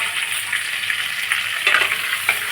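Cauliflower, beans, carrot and peas sautéing in a pan for a white kurma, with a steady close sizzle and a few scrapes of stirring partway through.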